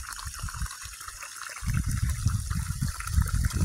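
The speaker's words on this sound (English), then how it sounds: "it just hits on the hill and then water goes downhill" Water runs downhill over sloping ground in hot weather with a continuous, close flowing rush that grows fuller and louder partway through, with no voices.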